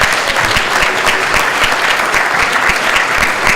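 A conference audience claps for a pastor at a Haitian youth event, thick continuous applause close and loud from start to finish.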